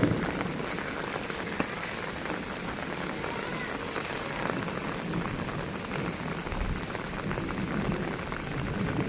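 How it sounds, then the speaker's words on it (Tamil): Rainwater runs down a street just after a light rain, a steady, close wash of flowing water with a dense patter that carries on unbroken throughout, with no talking. "கொஞ்சம் மழை தான் பெஞ்சிச்சு, அதுக்குள்ளே எவ்வளோ தண்ணி போகுது பாருங்கள்"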